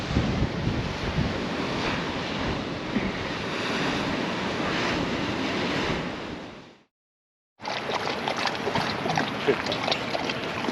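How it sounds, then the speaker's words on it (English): Heavy ocean swell crashes and roars continuously against large shoreline boulders at the Bay of Fires, buffeted by wind noise, with a brief total dropout before the churning water resumes. "the swell is pretty impressive to watch it smashing up against these big boulders on the shoreline here"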